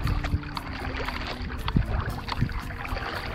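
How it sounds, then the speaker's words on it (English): Strong wind gusting over a bay at low tide near Weedon Island, a dense broadband rush buffeting the microphone with irregular thumps, no voices. "The bay doesn't look all that rough, even though the wind is blowing pretty strong right now."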